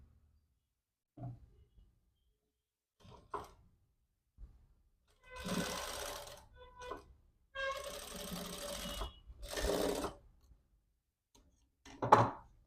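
Sewing machine topstitching a jacket, running in a few short bursts separated by quiet pauses, close and moderately loud.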